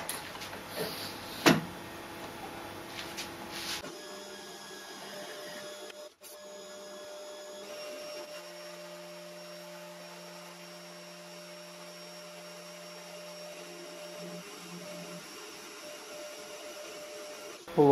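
A machine cuts a piece of what may be 304 stainless steel while making a tap follower, with a steady, close whining drone and sustained tonal hum after a few early clatters and knocks.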